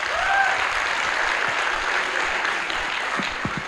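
A stand-up comedy audience applauds with loud, sustained clapping that fills the room and eases off slightly toward the end, with a few faint voices mixed in.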